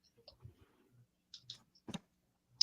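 A computer mouse clicks quietly several times in an irregular pattern, with soft scattered taps between the clicks and no one speaking.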